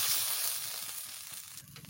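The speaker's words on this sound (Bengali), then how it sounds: "লাল লাল করে ভেজে নিচ্ছি।" Fish masala frying in a pan, a steady close sizzle and hiss that eases slightly toward the end, with no voices.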